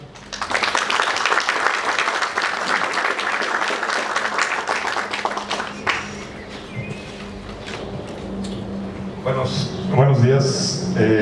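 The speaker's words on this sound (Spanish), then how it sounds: "a quien pido un fuerte aplauso" An audience breaks into loud, dense applause for a writer at a talk, the clapping filling the room for several seconds before fading into quieter rustling and a voice beginning to speak.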